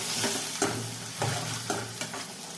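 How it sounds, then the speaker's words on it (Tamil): Onions and curry leaves sauté in a pan for a tomato kuzhambu, giving a steady close sizzle with regular spatula stir strokes roughly every half second. "வெங்காயம் நல்லா வதங்கணும்"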